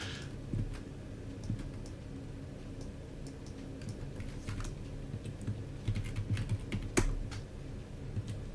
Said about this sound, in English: I know, I'm typing too fast.